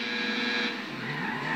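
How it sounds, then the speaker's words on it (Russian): A car horn in the GTA 5 video game sounds as a steady, buzzing electronic tone that holds for the whole stretch, loud and alone with no talking. "Это клаксон нашей машины."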